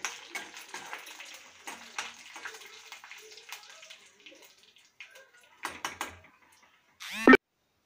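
Spiced tempering for dal rasam sizzles in a pan, a dense crackle that fades over several seconds before a few clinks and a sudden loud splash as it is poured out.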